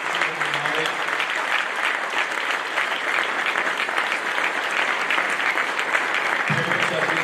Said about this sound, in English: Let's give a round of applause for the highest honors.